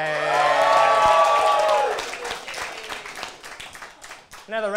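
A studio audience at a talk show claps and cheers. Loud sustained tones and singing voices at the start give way to scattered clapping that fades, and a voice rises again at the end.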